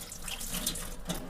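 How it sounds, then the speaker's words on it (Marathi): Running water splashes and trickles as barbati beans are rinsed by hand in a bowl, a close, fairly quiet wash with small irregular splashes and no talking. "मी स्वच्छ धुवून घेणार आहे हिला 2-3 पाण्याने"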